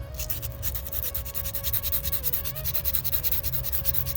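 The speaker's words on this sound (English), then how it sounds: "just take a small piece of sandpaper. It really has to be fine sandpaper" Fine sandpaper rubs on an outdoor white marble statue in quick, steady back-and-forth strokes, close and continuous with no talking.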